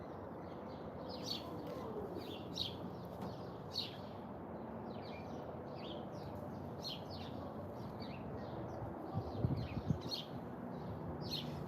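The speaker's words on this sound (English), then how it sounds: "It's sparrow." Sparrows at a filled backyard feeder chirp in short, repeated bursts, faint and scattered over a soft hum of ambient noise, with a brief louder rustle near the end.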